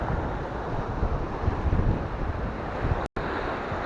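Strong wind buffets the microphone on a stormy seashore during line fishing for sargo bream, a loud continuous roar mixed with surf, steady throughout apart from a split-second dropout near the end.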